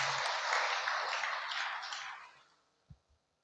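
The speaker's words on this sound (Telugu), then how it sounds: "గట్టిగా చప్పట్లతో మరొకసారి ఆహ్వానం పలుకుతూ" A church crowd claps together to welcome a newly appointed assistant priest at a parish gathering, a dense burst of applause that holds steady and then fades out, followed by a couple of faint thuds.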